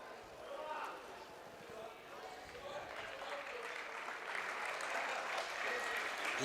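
A crowd at a school Year 7 and 8 sports final applauds, steady rising clapping heard from a distance under a commentator's voice.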